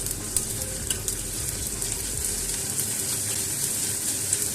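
Ginger-garlic paste is stirred into golden-brown fried onions in a hot pan, making a steady, close sizzle. Light scraping and clicks from the stirring come through, with no talk.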